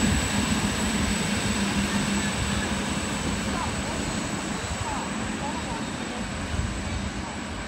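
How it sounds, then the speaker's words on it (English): An 81 class coal train passes platform 2 at Picton station with a continuous, moderately loud rumble and rolling wagon noise that stays even throughout. "there was just an 81 class coal train just passed here at platform 2"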